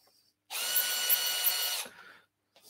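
A power drill bores into a wooden toy race car on a woodturning project, one loud steady whine lasting over a second that cuts off and trails away, with no talk.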